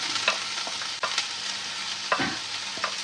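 Finely chopped onions sizzle steadily in a hot pan while a utensil scrapes and stirs them in short, irregular strokes, close and fairly quiet.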